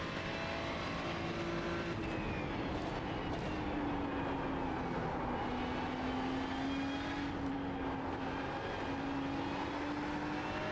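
A Ferrari GT3 race car laps Spa in a racing video game, its engine droning steadily with rising and falling pitch through gear changes, loud and continuous with no talk.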